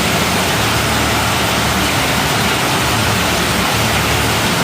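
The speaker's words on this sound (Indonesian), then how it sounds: "Hujan lebat disertai angin kencang menerjang sejumlah kawasan di kota Medan" Heavy rain driven by strong wind on a Thursday night in Medan, North Sumatra, makes a loud, steady broadband roar that holds evenly across the whole stretch, with no voices.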